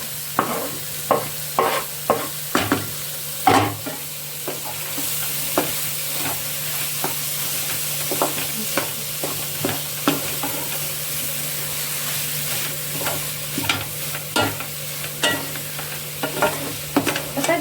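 Food fries in a pan with green onion and potatoes while a utensil stirs and scrapes at a repeated rhythm, making sharp clacks over a low steady sizzle, close and with no voices.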